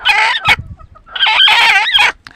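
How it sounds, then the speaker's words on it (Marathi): A Marathi farm hen clucking and squawking loudly and close by, in two agitated bursts of harsh, rising calls with a short pause between them and no talk. "ही आहे मुगी कोंबडी बघा कस काय कस काय ओरडते"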